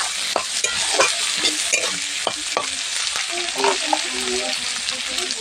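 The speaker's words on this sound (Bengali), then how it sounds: "এবার এর মধ্যে দিয়ে দেবো কেটে রাখা ক্যাপসিকাম ও বিনসটা। আবার একটু ভালো করে নাড়াচাড়া দিয়ে দেবো।" Chopped capsicum and beans are stir-fried with fried onions in a pan, with close, repeated scraping strokes of the stirring spoon over a bright, continuous sizzle.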